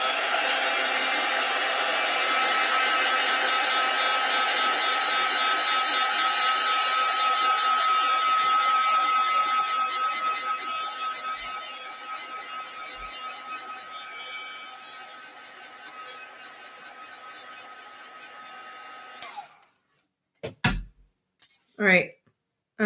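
Hair dryer blowing steadily over artisan nail powder on a fingernail, a loud, constant whoosh that gradually softens before cutting off, followed by a few knocks and a short voice.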